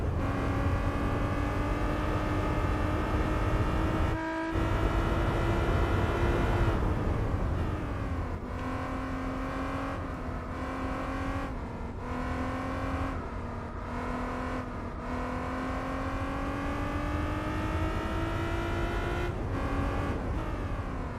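A Pagani Zonda race car in Gran Turismo 4 roars loudly and steadily, its engine pitch climbing through the gears with brief dips at each shift, continuous and close with no talking.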